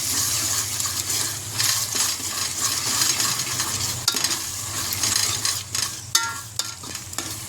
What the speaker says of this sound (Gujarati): મરચું હવે મિક્સ કરી દઈએ